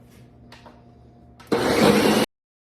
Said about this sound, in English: All you do is we're going to blend it up in the blender